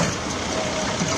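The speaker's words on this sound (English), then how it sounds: "The veteran tractor engine starts with a grunt and shudder." An old veteran tractor engine starts up with a low grunt and shudder, a steady rumbling idle filling the short stretch at close range with no talk.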